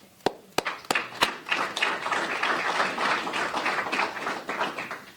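Several sharp claps open a round of audience applause at a police department press briefing, and the clapping quickly swells into a steady, moderately close burst of many hands that lasts a few seconds.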